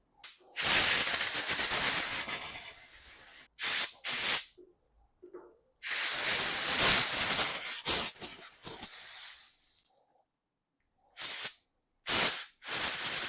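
Compressed air from a workshop compressor blowing through a blocked BMW screen washer part, loud hissing bursts of varying length separated by silent gaps, about six blasts in all.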